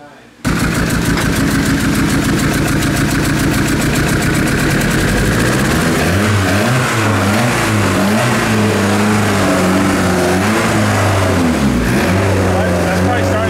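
A built turbo Honda Civic engine with an aggressive cam starts and runs loud and close, its choppy lumpy idle rising and falling in revs, with people talking over it.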